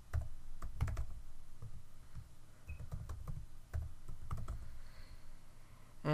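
Keys clatter on a computer keyboard as a password is typed, irregular clusters of soft clicks and taps close by over a low steady room hum.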